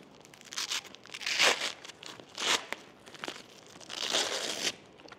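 Velcro ripping as a Trex Arms Molle adapter is pulled off a Ready Rig: several harsh, tearing rasps in bursts of about a second each, close and crisp, with short pauses between pulls.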